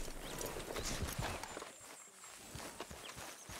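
Horse hooves clip-clopping in the video game Red Dead Redemption 2: a quiet, irregular series of hoof thuds of a horse walking close by, amid faint ambient game sound.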